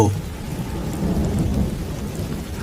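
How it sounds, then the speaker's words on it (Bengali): Thunder rumbling low and heavy during a rainstorm, with steady rain hissing on surfaces throughout; a deep, sustained roll rather than a sharp crack, with no voices. "দূরে কোথাও বাজ পড়ার বিকট শব্দ"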